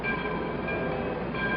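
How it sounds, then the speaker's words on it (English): A large train engine rumbles past in a steady, loud, continuous roar of rail noise with a dense low rumble and a faint mechanical hum, and no talk over it. "along toward her came a great, strong engine, all finely cleaned up and black"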